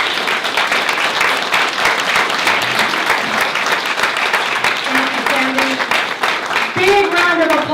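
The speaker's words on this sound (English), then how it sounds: "Big round of applause" Loud, sustained audience applause at a community investment conference, dense clapping throughout with a voice beginning to speak near the end.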